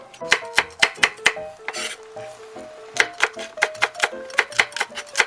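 Green and red chili peppers sliced diagonally with a knife on a cutting board, a brisk rhythmic series of sharp close chops with a short pause midway.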